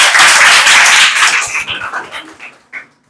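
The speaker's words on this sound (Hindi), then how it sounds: "बिल्कुल सही जवाब, जोरदार ताली बजा दीजिए" Students in a history class burst into loud applause, then the clapping thins out and fades within a couple of seconds.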